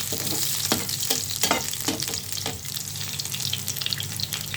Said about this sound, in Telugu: ఉల్లిపాయలు అయితే ఇలా దోరగా ఫ్రై అవ్వాలి